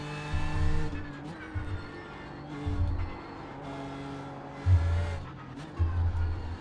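A race car laps the Nürburgring GP circuit in the iRacing simulator: engine notes rise and fall through repeated gear changes, with bursts of tire squeal, steady and fairly close throughout.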